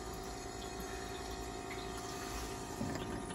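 Water draining from an RV water heater makes a continuous liquid rush and trickle with a faint mechanical hum, steady throughout and alone, with a slight surge near the end.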